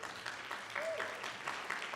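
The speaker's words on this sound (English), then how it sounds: "Round of applause to you." A TEDx conference crowd applauds, a fairly soft, steady spatter of clapping over two seconds, with a voice or cheer rising briefly through the middle.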